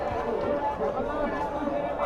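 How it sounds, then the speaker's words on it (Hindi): Dense crowd of passengers at Nashik railway station, a steady babble of many overlapping voices and movement filling the platform, close and continuous throughout. "कितना भीड़ है दोस्तों यहाँ नासिक में।"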